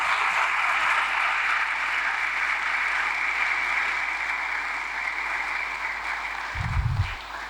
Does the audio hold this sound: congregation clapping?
yes